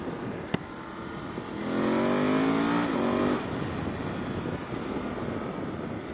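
A KTM 790 Adventure or BMW F850GS motorcycle on a test ride accelerates, its engine note rising through a couple of gears for a couple of seconds over faint wind and road noise, with a sharp click early on.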